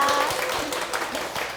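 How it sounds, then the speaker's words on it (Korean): An audience claps to welcome a guest onto a stage, a short burst of moderately loud applause from a crowd of people. "박수로 모셔보겠습니다"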